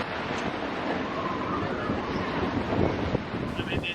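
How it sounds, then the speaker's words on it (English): Gusty wind of 15 to 25 knots buffets a sailboat at sea between Africa and Italy, a constant loud rushing roar with wind noise on the microphone and water sounds beneath, no clear talk. "The wind sort of fluctuating between 15 to 25 knots, quite gusty."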